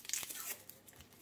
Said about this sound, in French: On prend l'oignon, je viens l'éplucher.